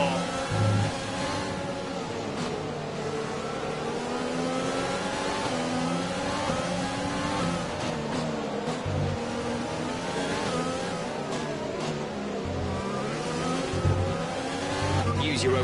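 F1 race cars from the video game F1 2020, at a Spanish circuit, roar continuously at high revs with shifting engine pitch as they overtake into a hairpin, with a voice over the racing.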